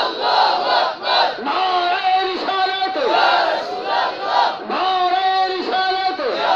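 A large crowd at a mosque religious gathering answers a takbir call by chanting "Allahu Akbar" in unison, loud rhythmic shouts repeating several times in a steady cadence.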